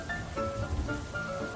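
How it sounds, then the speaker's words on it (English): Rain patters steadily on a roof in a cartoon, soft continuous drumming over a low background with faint tonal music lines. "water pattering on the roof"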